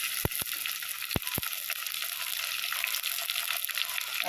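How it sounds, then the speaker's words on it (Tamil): Quiet, steady sizzle of tomatoes frying with onion and ginger garlic paste in a pan, with a few sharp clinks of a utensil near the start. "இப்போ நம்ம தக்காளி போட்டுக்கலாம்."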